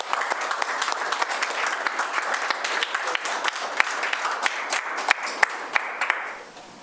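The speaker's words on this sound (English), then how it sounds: "he deserves a big round of applause for what he does for us" Applause at a Laramie, Wyoming city government meeting, a room of people clapping steadily with a few sharp nearby claps standing out, fading at the end.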